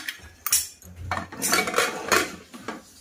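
A spoon scrapes and clanks against a pan while stirring cooked rice for rajma chawal, a series of irregular metallic knocks and scrapes at close range, with no talking.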